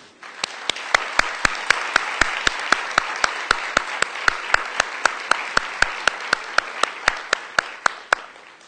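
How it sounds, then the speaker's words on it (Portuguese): Audience applause at a poetic pragmatism seminar, heard as a steady wash of many hands clapping, punctuated by evenly spaced sharp, loud claps that repeat at a quick, regular rhythm throughout. "eu queria pedir uma salva de palmas para o público"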